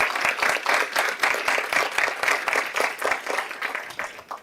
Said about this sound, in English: So I want to give her rounds of applause.